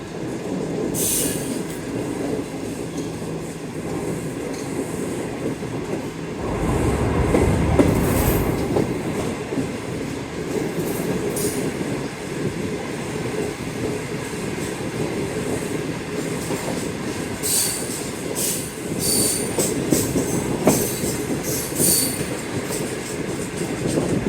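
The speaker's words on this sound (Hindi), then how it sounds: "सेम ग्रीन लाइन के तर्ज पे है सामने जो रेल कार आपको नज़र आ रही है" A Pakistan Railways Green Line train runs steadily on its tracks, loud and close, with continuous rumble, clickety-clack of wheels and bursts of metallic wheel squeal, no voices.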